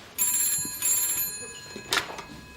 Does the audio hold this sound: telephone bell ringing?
yes